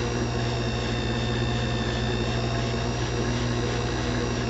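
A watch movement screw is sanded with 2000 grit sandpaper while spinning on a lathe, giving a steady, continuous machine hum and whir with a faint abrasive hiss, constant in level throughout.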